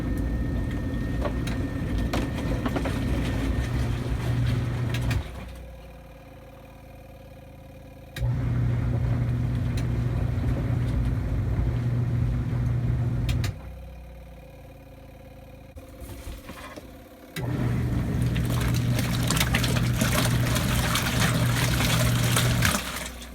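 An off-grid washing machine in an RV runs on generator power, its steady motor hum and churning water swelling in loud bursts with quieter pauses between agitation cycles.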